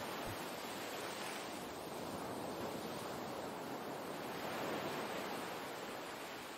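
Ocean waves wash steadily onto a sandy shore, a continuous broad rushing surge with gentle swells and some wind noise, no voices.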